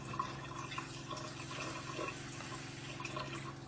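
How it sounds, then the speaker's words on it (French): Tap water runs from a faucet into a glass, a steady close splashing pour with no pauses. "Et là, on va prendre de l'eau du robinet."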